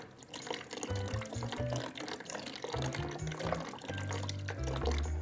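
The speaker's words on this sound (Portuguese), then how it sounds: "agora eu tô botando água" Water poured into a pet's water container, a steady liquid splash and trickle with low gurgling filling pulses throughout, fairly close and continuous with no talking.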